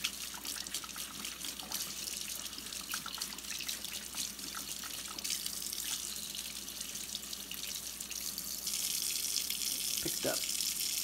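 Water from a tap runs steadily for the whole stretch, flushing out a clogged lantern generator, a continuous close hiss and splash with a brief knock near the end.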